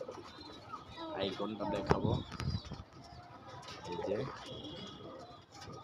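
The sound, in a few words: pigeon cooing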